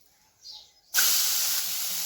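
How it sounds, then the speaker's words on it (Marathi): Oil hitting a hot tava griddle for thalipeeth, a sudden loud hiss that bursts in after a short quiet stretch and keeps sizzling steadily, with nobody speaking. "तवा तापाला ठेवलाय, थोडंसं तेल टाकून घेऊया."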